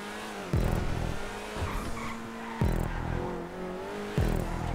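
A horse-drawn cart in GTA 5 skids along without braking, giving a sustained tonal scrape and squeal broken by three loud crunching bursts roughly two seconds apart.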